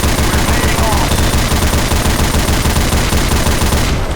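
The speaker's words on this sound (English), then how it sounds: "I have the turret gun." A mounted turret machine gun in Left 4 Dead 2 fires continuously, a dense, loud, unbroken rattle that fills the whole stretch and cuts off near the end, with game noise mixed in.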